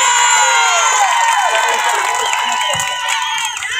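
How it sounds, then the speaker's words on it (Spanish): A crowd at the opening ceremony of a 2022 football cup in San Andrés Tuxtla, Veracruz, cheers and claps loudly, with children shouting and high whoops and whistles rising over the continuous roar. "Fuerte el aplauso para ella."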